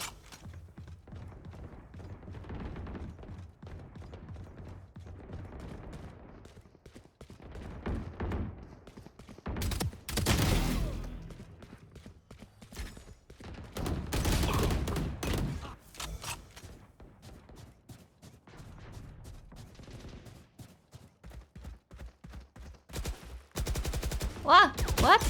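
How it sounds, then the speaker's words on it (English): Bursts of gunfire in a shooter video game ring out in clusters, with rapid automatic volleys and sharp single shots spaced between quieter gaps, near and loud. "I was confused of where those shots were coming from"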